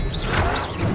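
Expelliarmus spell effect in Hogwarts Legacy, a short swooshing burst with a crash-like impact and a shimmering sweep, loud and close within about a second.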